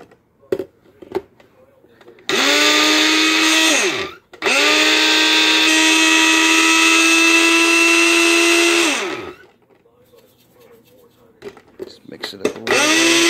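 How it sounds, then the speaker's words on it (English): A kitchen blender whirs through a smoke bomb mix in two long, loud bursts, the motor whining up to speed, running steadily, then winding down, with quieter handling noises between. "we're going to want to blend that for probably 10 to 15 seconds"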